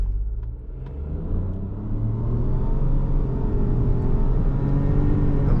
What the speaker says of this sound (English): I want to just go lightly on the throttle, start off lighter.